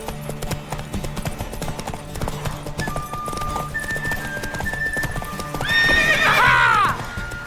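A horse gallops with rapid, continuous hoofbeats in The Witcher 3 video game, loud and close, ending in a strong, high neigh near the end; music plays underneath.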